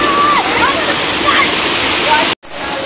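Loud, steady broadband roar of a hidden waterfall in Goa with people bathing nearby, continuous rushing water close to the listener, with faint voices underneath and a brief dropout near the end.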